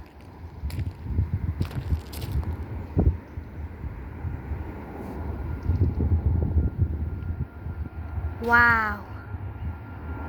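An airplane taking off at Alicante Airport on a sunny day, a steady low engine roar mixed with wind buffeting the microphone, with a short exclaimed voice near the end.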